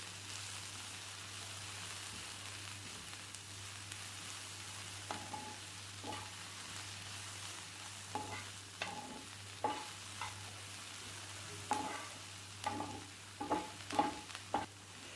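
Onion frying in a little oil in a pan for paratha filling, a soft steady sizzle with scattered crackles and clinks of stirring growing more frequent toward the end.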